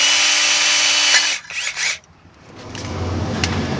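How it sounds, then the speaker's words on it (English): A power drill whines loudly as it bores holes into a metal trolling plate for over a second, winding down, then a quieter grinding hum returns near the end. "So he's going to keep drilling them and we'll get them all drilled out."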